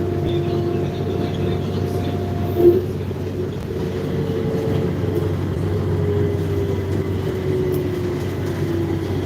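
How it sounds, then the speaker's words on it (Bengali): Inside a moving train, a steady loud rumble of the carriage runs throughout with a faint sustained whine above it and one brief knock partway through. "আমি ট্রেনের ভিতরে আছি"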